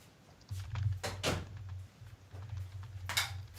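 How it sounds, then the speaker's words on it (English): An interior house door is pulled shut, giving a dull thud near the start and another at about a second and a quarter, with a faint click toward the end, over a steady low hum. "Okay, I'm gonna shut the door."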